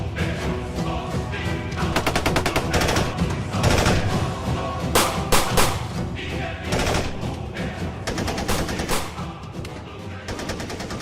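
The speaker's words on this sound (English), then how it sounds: "Gunfire erupts." Sustained bursts of rapid gunfire in a police raid, with loud cracks and thuds, dense and continuous, with voices faintly mixed in among the shots.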